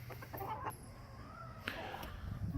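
Roosters, three or four of them, clucking softly inside a chicken coop, with a few brief sharper calls scattered through a faint, steady background.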